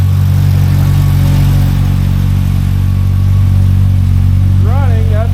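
A Pro R fitted with a Packard supercharger kit runs loud and close, a constant deep engine drone throughout, with a few rising, whistling whine chirps near the end.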